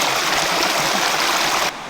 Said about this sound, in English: we hear the water, so we should be there soon